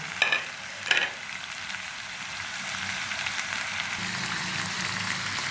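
Pre-fried onions go into a pan of cooked chicken for chicken chili, two quick rustling bursts at the start followed by a steady, close, even sizzle of frying.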